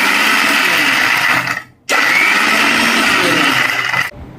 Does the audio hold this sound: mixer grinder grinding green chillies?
yes